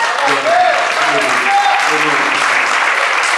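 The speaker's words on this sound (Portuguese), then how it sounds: "Dá um aplauso para o nosso Deus bem forte." A church congregation claps loudly in praise during a sermon service, steady crowd applause with voices and tonal sounds mixed underneath throughout.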